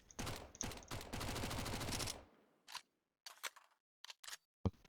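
MAC-10 submachine gun fire in Counter-Strike 2 comes in a dense, rapid automatic burst for about two seconds, followed by several short separate bursts and single shots, loud and close with no talk.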